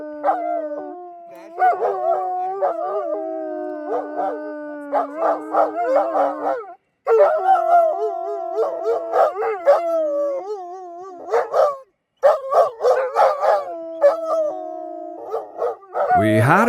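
Dogs howl in long drawn-out wails broken by yips and barks, close by and loud, on a backpacking trip in the High Uintas Wilderness of Utah, with brief pauses between bursts.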